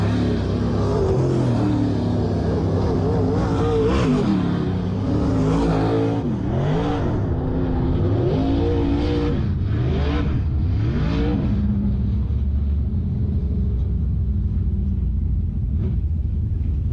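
WISSOTA Modified race cars at Lake of the Woods Speedway circling the dirt oval, engines roaring loud and steady with repeated rising and falling revs as cars pass close by, continuous throughout.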